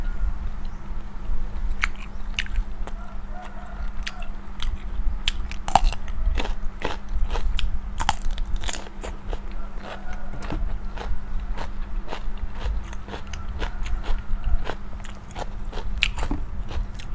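Crispy grilled Isan sausage being bitten and chewed up close, giving loud, continuous crunching with repeated sharp bites throughout.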